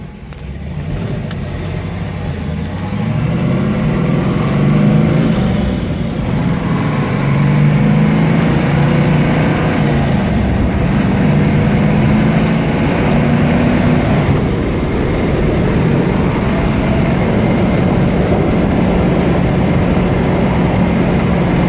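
1969 Ford Mustang Mach One Cobra Jet with an R code engine, driving steadily with a loud, constant engine drone and rumble close by, rising and falling slightly over about twenty seconds with no talk.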